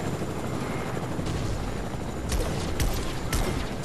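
A Fortnite helicopter beats and whirs steadily close by in a video game, its rotor chop holding throughout with faint clatter layered over it.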